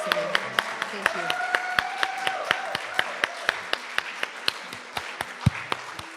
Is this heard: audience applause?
yes